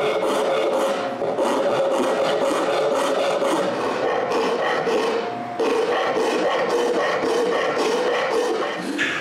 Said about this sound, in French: Je retourne à l'établi et j'utilise une râpe.